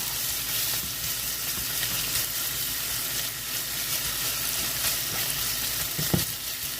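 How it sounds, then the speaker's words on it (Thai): Steady, loud sizzling and crackling of chicken, carrot and garlic stir-frying in a hot pan, with occasional scrapes of a utensil tossing the ingredients. "แล้วก็ผัดรวม ให้เนื้อไก่แครอทกระเทียมคลุกเคล้ากันนะคะ"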